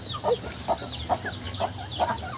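A young chicken chirps and clucks repeatedly in short, evenly spaced calls close by, with a steady high background hiss.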